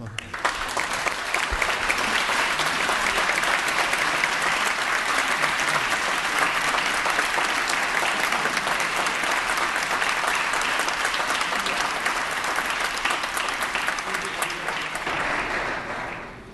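Sustained applause from a state assembly floor in Sacramento welcomes award-winning students: dense, even clapping that fills the room for about fifteen seconds before tapering off at the end.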